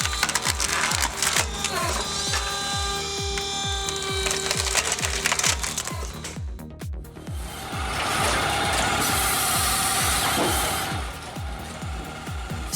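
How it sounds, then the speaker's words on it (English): A tractor-powered Palex 35 firewood processor works through logs, with a steady run of sharp splitting cracks and mechanical knocks repeating in a regular rhythm, then a louder, denser grinding stretch near the end. "Splitting firewood with the Palex 35 is truly an impressive experience."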